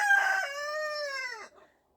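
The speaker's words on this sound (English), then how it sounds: "Our roosters always have something to say." A single rooster crows once nearby, a loud, drawn-out cock-a-doodle-doo that rises and then trails off into silence.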